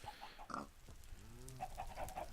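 A Minecraft pig penned in with cows gives several short, soft oinks and grunts, scattered across the moment and fairly quiet, with no talking over them.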